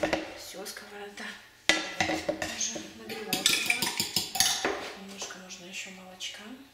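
A frying pan and metal utensils are handled while cooking in a home kitchen, giving close, repeated clanks, scrapes and clinks of cookware in an uneven rhythm throughout.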